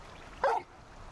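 A single short bark from a dog in the video game Final Fantasy XVI, a clear close yip over faint background noise.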